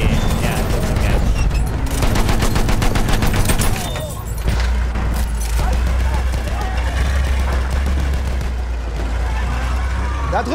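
Machine gun fire in the World War I shooter Battlefield 1, a rapid rattling burst for the first few seconds, then a rumbling battlefield with scattered shots and shouting soldiers.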